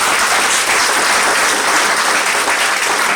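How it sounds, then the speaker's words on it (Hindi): An audience at a Modicare motivational event bursts into loud, dense applause, a continuous roar of many hands clapping close by with no breaks throughout. "एक बार अपने सपने के लिए जोरदार तालियां बजाएं"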